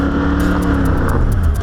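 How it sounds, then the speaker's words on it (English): A Toyota 79 Series engine revs hard while driving off-road through a forest, giving a loud, close, continuous roar that holds steady and swells slightly toward the end. "hearing that big engine echoing through the forest was something else"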